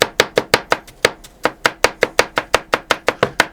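Kitchen knife chopping ham on a cutting board, with about sixteen sharp, evenly spaced chops in a steady fast rhythm, close and clear with no talking.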